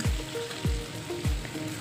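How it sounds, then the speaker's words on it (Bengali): A steady frying sizzle of eggs in a pan fills the background, with soft low thumps recurring about every half second. "ডিমগুলো কড়াইয়ের মধ্যে দিয়ে দিলাম, হালকা একটু লাল লাল করে ফ্রাই করে নিব"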